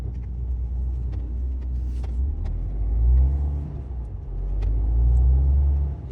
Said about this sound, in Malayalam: അവിടെ നിന്ന് വണ്ടികൾ വരുന്നുണ്ട്